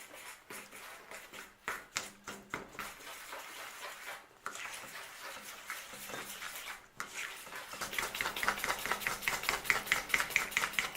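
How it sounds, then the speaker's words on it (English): A fork stirs sugars into brownie batter in a cast iron pan, giving repeated soft scraping and tapping strokes that quicken into a steady, busier rhythm toward the end, close and moderately loud with no talking. "Stir that in."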